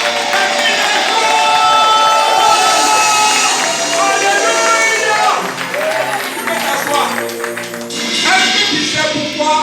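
A church congregation applauds and cheers during a worship service, the clapping and shouts running steadily under music and voices throughout.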